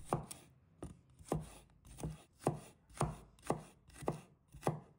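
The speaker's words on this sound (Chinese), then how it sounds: "再准备几个大蒜，把它切成片。" Garlic being sliced with a knife on a cutting board gives about nine crisp, evenly spaced chops, close and fairly quiet, with silence between strikes.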